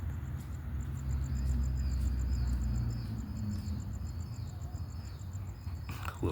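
Crickets chirp nearby at night in a steady, rapid, high-pitched pulsing rhythm over a low rumbling background, ending with a brief rustle.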